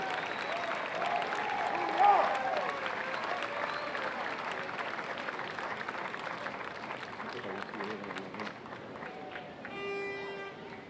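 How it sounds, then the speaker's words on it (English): A crowd at a Fourth of July parade applauds a Marine Corps Reserve unit, steady moderate clapping heard from a distance with outdoor chatter and voices mixed in throughout. "Let's give another round of applause to the Fox Valley Marines."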